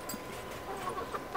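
Chicks cluck and peep softly at close range in a steady stream of short calls over a faint background hum.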